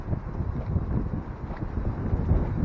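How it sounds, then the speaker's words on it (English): Strong wind buffets the microphone outdoors on a lake while bass fishing, a continuous rough, gusting rumble that fluctuates in loudness, with no voices. "it's so freaking windy"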